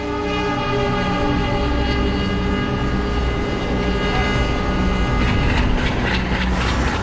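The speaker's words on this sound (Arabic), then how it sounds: "سترى قطارا يقترب من المحطة." A train rolls into a station in Mumbai, a loud, steady mechanical roar of wheels and carriages with a horn-like tonal layer, building slightly toward the end.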